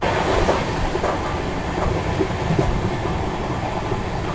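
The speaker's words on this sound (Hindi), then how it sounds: "100 के आसपास जो है अपनी ट्रेन दोस्तों मेंटेन करके चल रही है" The Donyi Polo Express rolls along the rails at speed, with a steady loud rumble and recurring clickety-clack beats from the wheels over the track joints, heard from inside the coach with no talking.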